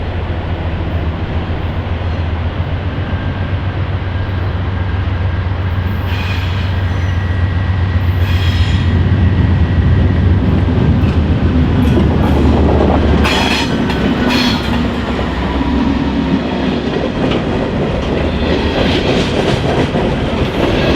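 Norfolk Southern SD40-2 locomotives haul a train past at close range in Tennessee, opening with a deep diesel rumble that builds into loud rolling wheel noise, clickety-clack and bursts of high metallic squeal as the cars pass.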